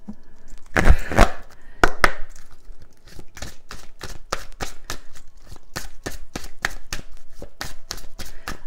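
Tarot cards being shuffled by hand: a burst of riffling early on, then a steady run of crisp, evenly spaced card snaps, close and fairly loud, with no talking.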